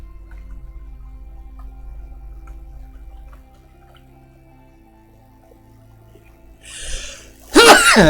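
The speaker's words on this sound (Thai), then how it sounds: "แบบนี้แหละมันจาม" A single loud, sharp human sneeze bursts out near the end, preceded by a short inhaling buildup over a low steady hum and faint background tones.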